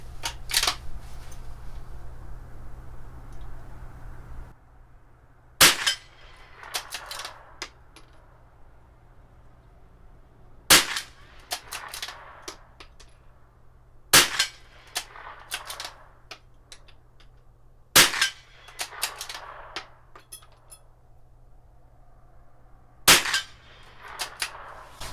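Marlin XT-22 .22 rifle fired offhand at 50-yard targets: six sharp, loud cracks spaced several seconds apart, with lighter mechanical clicks of bolt cycling between shots and no talking.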